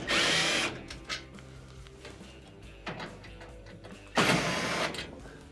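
Power drill backing Phillips head screws out of the top panel of a Frigidaire oven whirs in two loud bursts at the start and near the end, close by, with quieter handling clatter in between.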